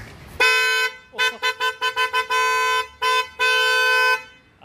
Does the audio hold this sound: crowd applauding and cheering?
no